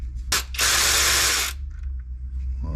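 A ratchet spins off a transmission filter bolt under a vehicle, a brief click followed by a loud, rapid second-long burst of ratcheting, then quiet.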